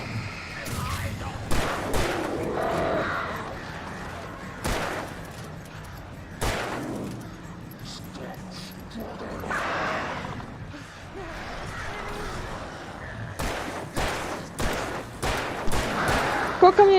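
Gunfire in the video game Alan Wake Remastered: a series of sharp, loud shots fired at irregular intervals, some in quick clusters, over a dark ambient game soundtrack with a voice speaking between shots.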